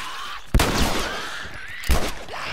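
Two sharp, loud gunshots, about a second and a half apart, ring out in the video game The Last of Us, each ending in a short echoing tail over quiet game ambience.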